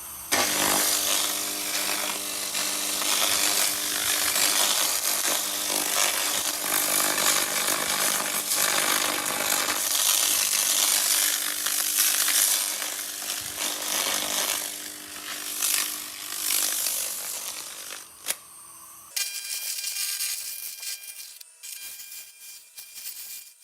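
An SFX continuous laser cleaning machine strips rust from a Porsche 914, giving a loud, harsh, continuous rasping hiss that pulses slightly as it sweeps, then cuts off abruptly near the end, leaving faint residual noise.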